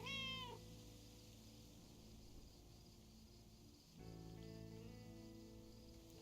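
Cats meow in the video game Lake: a sharp, rising meow at the start, then another at about four seconds. Both sit over a steady background hum and faint insect-like chirping, with no talking.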